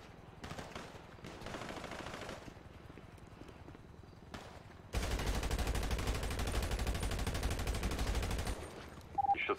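Sustained automatic gunfire in a GTA roleplay shootout, aimed at a police helicopter from a rooftop near a jewelry store. A loud, dense burst lasts several seconds and is preceded by scattered quieter shots and movement.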